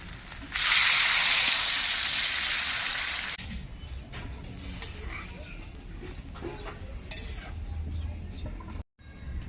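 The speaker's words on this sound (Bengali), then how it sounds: "মাছগুলি কষানো মশলার মধ্যে মাখিয়ে এক মিনিট মতো উনুনে রেখে দিয়েছিলাম এবার জল দিয়ে দেব" Water poured into a pan of sizzling spiced fish curry made with live koi fish: a loud, broad hissing burst for about three seconds, then a quieter bubbling simmer with light clinks and a brief dropout near the end.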